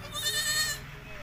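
A goat that has just given birth to two kids bleats once, close and loud, in a long wavering call lasting about a second, with no one talking over it.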